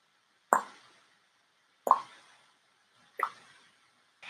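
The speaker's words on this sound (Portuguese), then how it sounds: "A gota de água não parava de pingar." Three separate water drops plop one after another about a second and a half apart, each a clear close hollow blip fading quickly into silence.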